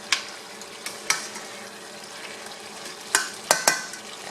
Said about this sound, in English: we are going to allow this to just go ahead and simmer, so that the meat is really nice and tender.